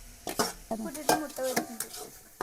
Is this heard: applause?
no